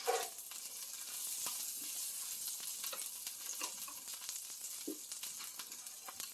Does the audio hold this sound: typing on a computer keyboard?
no